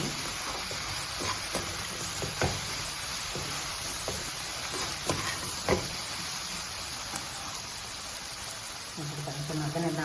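Salted plantain and moong dal curry is stirred in a pan, giving a soft steady sizzling hiss with faint scraping taps now and then, quiet and close.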